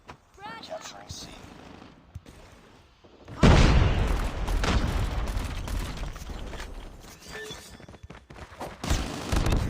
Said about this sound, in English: Grenade out. Frag.